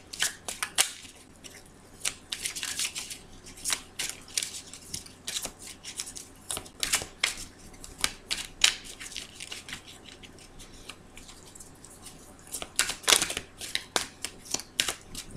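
A deck of cards being cut and handled during a card reading, giving soft, irregular crisp flicks, riffles and taps close up at a low level with no talk.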